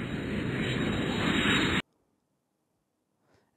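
Airplane roaring loudly as a broad, steady rush for just under two seconds, then cutting off abruptly into near silence with a faint voice at the end.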